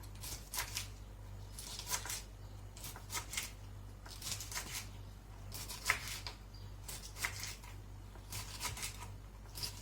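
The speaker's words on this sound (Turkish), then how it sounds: "Şöyle biraz doğrayayım." Steady bursts of knife chopping green beans on a board, quick cuts grouped in short runs with brief pauses, fairly quiet over a low hum.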